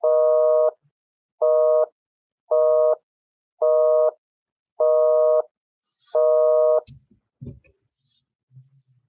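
A telephone busy signal sounds as six loud, evenly spaced tones, then stops, followed by a few faint clicks and handling noises.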